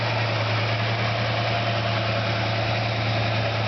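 Professionally rebuilt original 283 V8, 195 horsepower, in a restored 1965 Chevelle Malibu SS convertible, idling with a steady low rumble, close and even, with no other sounds.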